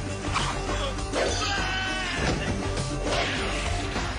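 A loud, continuous braying animal cry used as a comedic donkey sound effect, harsh and wavering, with noisy clatter mixed in throughout.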